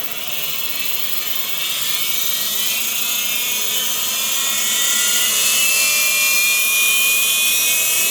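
A distributor on a test machine spins up toward 6,000 RPM with a loud, continuous mechanical whine that climbs slowly in pitch and grows a little stronger over several seconds.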